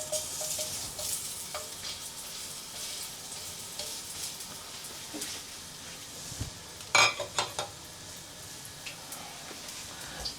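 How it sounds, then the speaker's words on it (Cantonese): Ginger slices fry in hot oil in a wok, a steady close sizzle with scattered crackles and a short burst of clattering utensils against the pan near the end. "咁咧就稍微煎一煎個薑先，等佢出咗味咧"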